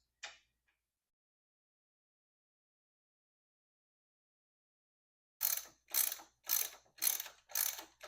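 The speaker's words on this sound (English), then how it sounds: "Go ahead and tighten that down from the bottom with this 10 mil bolt." A ratchet clicks through five quick, evenly spaced bursts of ratcheting while tightening bolts on a Kawasaki Vulcan 750 motorcycle during stator work, close and crisp, following a single short click and a long quiet gap.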